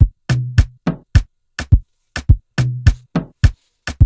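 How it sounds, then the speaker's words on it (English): Afrobeat-style top drum loop made in FL Studio, crisp rim shots and percussion hits in a tight repeating pattern, dry and loud with short decays and clean silence between strikes. "I have this top loop, basically rim shots and percussions."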